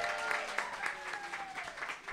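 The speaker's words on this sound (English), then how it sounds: "Round of applause for Jim Henson" Audience applauding for Jim Henson at a Labyrinth anniversary event, a steady wash of clapping from a crowd of moderate size, fairly distant and even throughout, with a faint tone running underneath.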